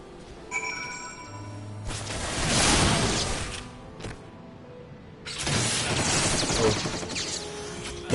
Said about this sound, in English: Here, take a few of these firecrackers and toss them down there.